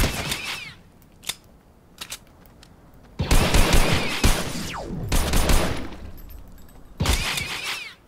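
Fortnite gunfire crackles in dense, loud bursts, with scattered single shots and sharp, ringing impacts between the heavier volleys.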